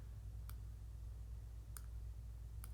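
Three sharp computer mouse clicks, spaced apart and fairly faint, over a low steady room hum.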